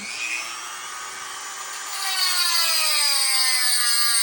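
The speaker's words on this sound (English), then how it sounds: "I've marked off where I need to just cut a little channel here in the resin." A small channel is being cut in a resin part for a model train, probably with a rotary power tool. It makes a steady, high whining grind that rises in pitch and gets louder partway through, with no talk.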